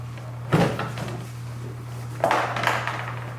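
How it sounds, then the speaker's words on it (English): A rigid car door panel is pried loose with a sharp plastic pop, then shifts and rattles again a couple of seconds later over a low steady hum. "just lift up on this door panel slightly, up and off"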